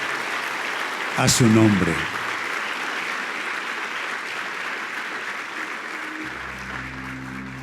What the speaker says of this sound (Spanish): ¿Qué tal exaltar el nombre precioso de Dios con un precioso aplauso en esta mañana?